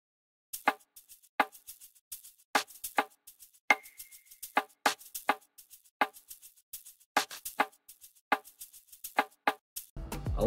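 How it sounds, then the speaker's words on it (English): Shaker loop from the Miraculous Beats drum kit, crisp dry rhythmic shakes and light percussive taps in a loose syncopated groove, quiet and isolated before a deeper hit enters at the very end. "I start off with the shaker loop from the Miraculous Beats drum kit."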